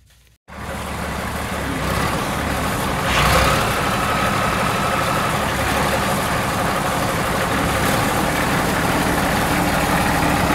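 After a short silence, the diesel engine of a Case 2470 tractor, freshly fitted with new fuel lines, settles into a steady, loud, close idle that holds unchanged to the end.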